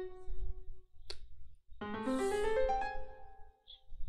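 A short composed melodic sequence in a minor scale, played as sustained synthesized tones that enter after a brief click and ring out over a low rumble of background noise, with no voices.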